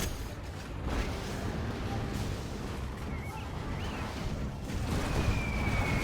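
Carpet bomb explosions in a real-time strategy game, a dense, rumbling barrage of distant blasts that blur into a continuous roar with faint whistling overhead.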